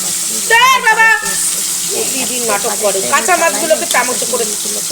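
Prawns frying in hot oil in a wok, a steady close sizzle running throughout while someone talks over it.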